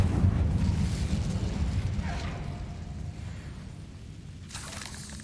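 An Incendio fire spell is cast in Hogwarts Legacy, giving a low, rumbling whoosh of flame with crackling bursts that slowly fades, and a brief flare near the end.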